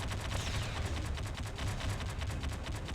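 A battleship explodes in the space game Freelancer with dense, continuous crackling blasts and rumbling booms that roll on without pause, loud and close throughout.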